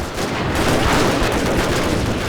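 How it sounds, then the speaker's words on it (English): Cannon fire in the video game Total War: Shogun 2 Fall of the Samurai, a dense, loud roar of booming blasts and rumbling battlefield noise throughout. "You actually follow the cannonball along the battlefield until it actually hits its target."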